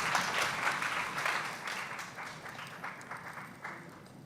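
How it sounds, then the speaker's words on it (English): Audience applause at a tech summit panel closing, a dense steady wash of many hands clapping that holds strong at first and slowly tapers, with no talk over it. "big round of applause to Dave"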